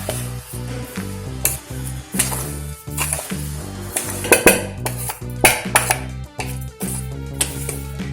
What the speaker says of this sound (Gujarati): ખાંડ અને કેરીનું છીણ બરાબર મિક્સ થાય તે રીતે બરાબર મિક્સ કરી લઈએ.